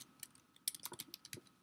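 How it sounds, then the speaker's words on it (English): Keystrokes on a computer keyboard tap out an irregular run of quick, close clicks, a few louder than the rest, with no voices. "Trouble typing again."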